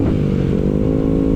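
Motorcycle running on a ride through city streets, a steady low engine drone with a slight rising harmonic whine, continuous and fairly loud, no voices.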